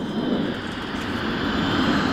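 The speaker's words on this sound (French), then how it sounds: "On entend très bien les avions de partout" A military jet flies over the Meiringen air base in the Alps, a loud, steady roar of engine noise that fills the whole moment without pause.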